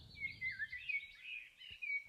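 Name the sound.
bird sound effect played from looper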